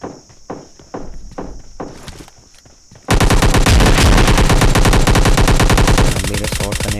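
Gunfire in the PUBG Lite battle royale game: a few scattered footstep-like thuds, then a loud sustained burst of rapid automatic fire lasting several seconds before easing off, with no talk.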